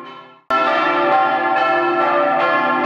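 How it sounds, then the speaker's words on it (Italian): Church bells ringing loudly and continuously, overlapping clangs with a sustained resonant hum, starting abruptly after a brief fading tone. "qua sto aspettando che finiscano le campane"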